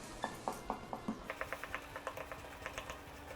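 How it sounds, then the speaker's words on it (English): A whisk clicks rhythmically against a bowl while flour is mixed into liquid, quick light taps and scrapes in a steady beat, soft and close, speeding up slightly midway. "I'm just gonna add a little bit at first and just mix that together"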